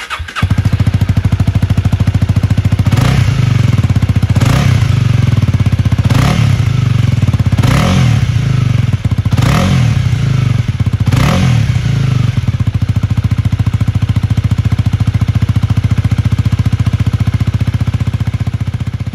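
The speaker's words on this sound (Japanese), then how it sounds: "ノーマルのマフラーサウンド確認していきます。" A Honda Rebel 250 with its stock muffler idles steadily and close, a loud continuous thumping drone broken by about six short throttle blips that rise and fall in quick succession.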